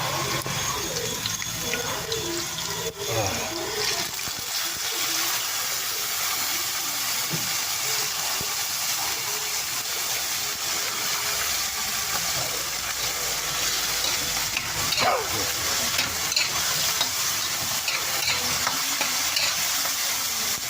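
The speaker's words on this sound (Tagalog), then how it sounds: "Igisa natin muna itong bagoong." Shrimp paste (bagoong alamang) sautés in a hot pan with steady sizzling and frying crackle, plus occasional stirring scrapes and clinks close by, continuous throughout.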